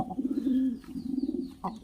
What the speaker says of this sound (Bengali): দুটো নতুন আমার কবুতর নিয়ে এসেছি আপনাদেরকে দেখানোর জন্য